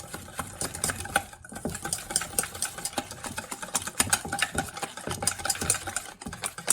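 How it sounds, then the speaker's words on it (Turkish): A utensil stirs yeast and cold water in a bowl for Ramadan pide dough, making a rapid, continuous rhythmic scraping and sloshing close to the microphone. "Daha sonra pürüzsüz olana kadar burayı bir böylece iyice bir karıştırıyoruz."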